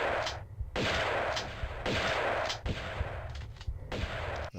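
Gunfire in the video game Tomb Raider II, repeated loud booming shots in a rapid irregular burst sequence, close and heavy, no voices.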